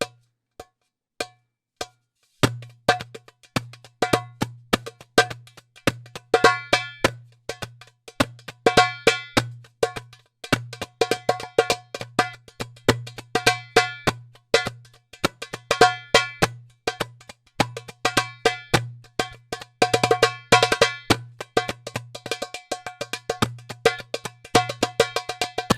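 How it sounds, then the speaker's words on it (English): A doumbek hand drum recorded through a Fifine K669D dynamic microphone plays a steady, busy pattern of deep doum strokes and sharp, ringing tek slaps. The rhythm is close and clear, with no voices. "we're going to be playing our Doombeck and just see how that sounds."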